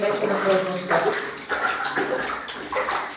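Water splashing in a baby's bath at home, a run of repeated sloshing splashes in loose bursts about half a second apart, fairly close, with faint voices in the background.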